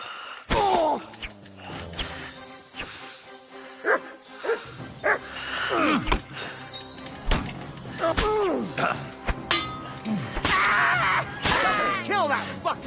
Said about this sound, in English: Kill that fucking mutt!